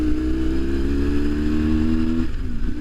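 An R1150 GS motorcycle engine runs steadily on a ride, a close, loud, throaty drone that drops in pitch near the end as the throttle eases, with faint pops on the overrun.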